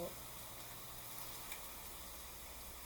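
Food frying in very hot oil on a stovetop while being moved around, a steady soft sizzle running throughout at low level, with a faint clink near the start.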